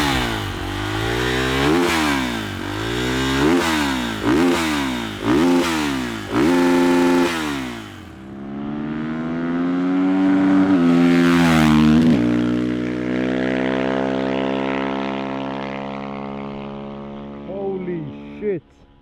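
A KTM 450 EXC dirt bike engine revs hard and loud during a ride, its pitch repeatedly rising and dropping through quick gear changes, then a long sustained climb and a steady high-rpm drone up close.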